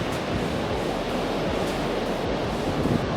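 Large ocean waves crash and roar continuously against the Icelandic shore by basalt column cliffs, a dense loud wash of surf mixed with wind buffeting the microphone.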